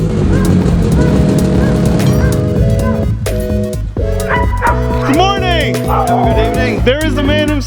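A pack of sled dogs barks and yips loudly and continuously at a dog sledding outing, many overlapping excited voices close by, with high yelps rising toward the end.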